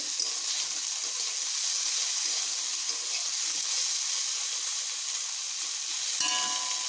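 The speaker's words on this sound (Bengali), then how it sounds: "আর একটুক্ষণ ভেজে নেব।" Pumpkin pieces fry in a pan with a steady, even sizzling hiss that stays close and constant, and a brief clink near the end.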